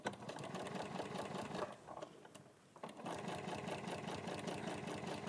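A domestic sewing machine stitches fabric at a short stitch length, running in a steady rapid whir, pausing briefly midway before starting up again close and loud.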